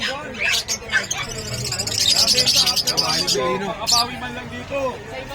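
Indian ringneck parrots, including white and opaline birds, screech and chirp at a crowded New Year bird sale in Bocaue, their calls mixed with people talking nearby.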